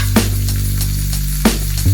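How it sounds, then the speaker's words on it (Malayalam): Mustard seeds crackling in hot oil during tempering for a Kerala vegetable thoran, with a steady low frying hiss and a few sharp pops spaced far apart, close and alone without talk. "എണ്ണ ചൂടായിട്ടോ കടുകിടാം. കടുക് പൊട്ടി തുടങ്ങി."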